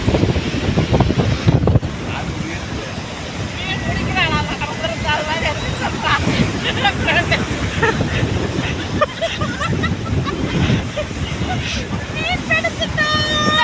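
A strong sea wind buffets the microphone on the open shore at Dhanushkodi, a constant roaring rush heard under people talking.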